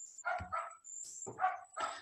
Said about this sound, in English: I'm sorry, a lot of dogs are very angry today,